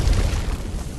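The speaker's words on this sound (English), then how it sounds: "Loud explosion rings out high up above, and its massive shockwave shoves Jessica to the ground." A loud, deep explosion booms high overhead, its massive shockwave rolling out as a sustained low rumble that fills the whole short burst without any talking.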